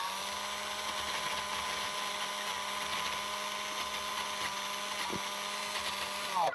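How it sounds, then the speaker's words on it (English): A power drill with a 3-inch polishing pad attachment sands into a corner, giving a steady, loud, high-pitched whirring whine that holds unbroken throughout, with a brief pitch dip near the end. "if I wanted to sand some of this out"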